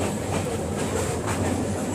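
A Bangladesh Railway train runs on its rails, heard from inside an air-conditioned coach: a steady low rumble with a regular clickety-clack of wheels over rail joints.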